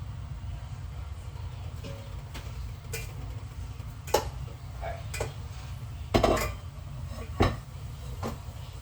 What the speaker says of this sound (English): Now, I'm using the rice spoon I like to use.